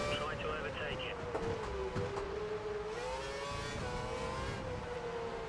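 F1 2012 race car engines at the Indian GP, a Caterham among them, whine steadily while overtaking, a high wavering engine note with faint bumps and a voice talking quietly underneath.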